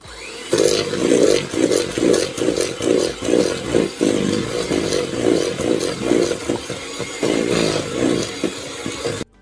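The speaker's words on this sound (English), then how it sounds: "I've got the hand mixer out because it's only small cakes we're making" Electric hand mixer whisking butter, sugar and vanilla for small cakes, a loud continuous whirring buzz with rhythmic pulsing clatter as the beaters work through the mixture, running steadily throughout.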